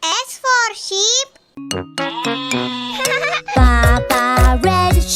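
Kids' alphabet song with a cartoon-style sheep bleating in quivering wavering calls over bright music, the bleats loud and close, alternating with sung notes.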